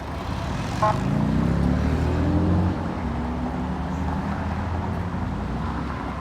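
Cars of a Detroit police funeral procession roll past in a steady, continuous rumble of engines and tires, fairly close, with a short louder swell early on before settling into an even drone.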